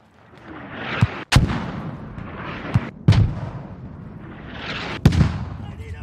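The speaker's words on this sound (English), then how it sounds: "Guys, I'm calling in mortars on the south of our position across the hill." Mortar rounds landing in the video game Squad, three sharp booming impacts spaced about two seconds apart, each with a rolling rumble trailing off, fairly close and loud.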